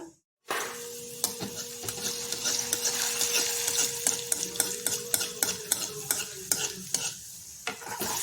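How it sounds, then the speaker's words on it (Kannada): Mango jamun dough balls deep-frying in oil on a low flame, a close, busy sizzle with repeated sharp clicks and scrapes of a utensil stirring against the pan. "ಕರಿಯೋದಕ್ಕೆ ಎಣ್ಣೆ ಇಟ್ಟಿದ್ದೀನಿ ಸಣ್ಣ ಊರಿನಲ್ಲಿ ಕರಿಯೋಣ ಈಗ"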